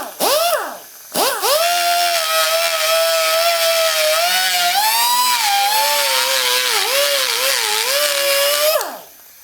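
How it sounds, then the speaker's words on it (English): A power grinder whines close up while grinding casting flash and sharp corners off a Datsun engine block, starting with a brief spin-up and pause, then a long sustained high-pitched grind with wavering pitch under load before spinning down. "since we're here, we're just going to grind it off and clean up a couple of sharp corners."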